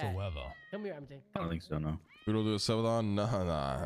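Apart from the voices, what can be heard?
cat meowing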